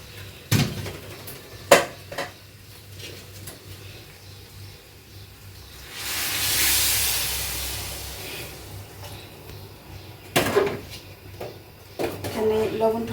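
Hot water poured onto fried polao rice in a pan, making a broad rush of hissing steam that swells for a couple of seconds amid scattered clatter of kitchen utensils.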